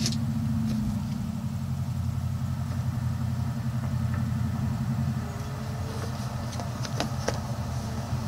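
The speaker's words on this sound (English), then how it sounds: "Got another noisy truck coming by where I am right now." A noisy truck drives past outdoors, its steady low engine rumble holding loud and close for several seconds with faint clinks and rattles on top, and no talking.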